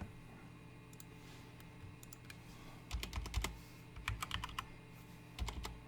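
Short clusters of quick key clicks as someone types on a computer keyboard, fairly faint and close, with irregular bursts separated by pauses over a steady low hum.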